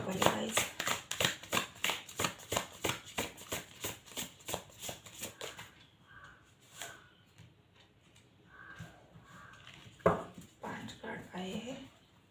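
Deck of cards being shuffled in a quick rhythmic series of crisp riffling flicks for about six seconds, then sparse soft card handling while a voice talks.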